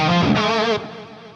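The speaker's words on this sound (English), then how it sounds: "I made the first guitar wider and the second one centered. With this technique, 2 heavily distorted sounds don't conflict with each other" Two heavily distorted electric guitars layered in a DOOM-style metal soundtrack, one spread wide and one centered, playing a dense, buzzing chord that rings loudly and then drops to a quieter sustained tail within a second and a half.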